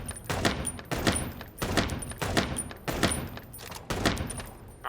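Repeated gunfire in the video game Chicken Police, about five sharp shots spaced roughly evenly a second apart, loud and close, each followed by a short ringing tail.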